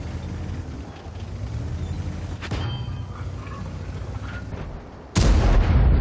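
Heavy booming cannon shots from tanks in World of Tanks, one deep blast partway through and a louder, closer boom near the end over a rumbling battlefield background.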